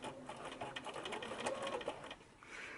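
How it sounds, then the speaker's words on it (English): A sewing machine running a locking stitch, quick steady mechanical clatter of the needle for under three seconds, fairly soft and close, with no talking. "Okay, now I'm going to do a locking stitch"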